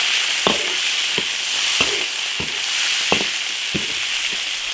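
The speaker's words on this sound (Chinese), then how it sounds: "加牛肉煸炒" Beef sizzles loudly and steadily in a hot iron wok with oil, Sichuan peppercorns and ginger, while a spatula scrapes and stirs it in regular knocks every half second or so, with no voices.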